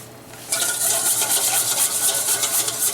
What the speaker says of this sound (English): Equal parts cornstarch and water.